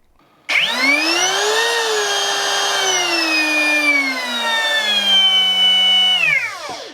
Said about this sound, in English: The motor itself feels pretty decent. It's brushless, it has a soft start and a brake.